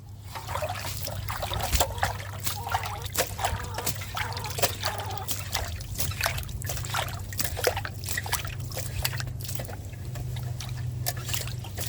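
Cold water trickles and dribbles through a garden channel in a steady, close babble with small splashes, over a low constant hum, with no clear talking.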